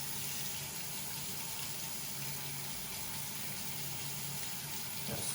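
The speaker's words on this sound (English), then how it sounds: "Run them under the water to get all that soap out." Tap water runs steadily over makeup brushes being rinsed of soap in a sink, a close, continuous broadband gush with no speech.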